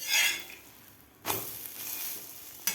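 An egg omelette fries on medium heat in a pan, giving a steady soft sizzle throughout, with a brief louder hiss near the start and again at the end as it is handled.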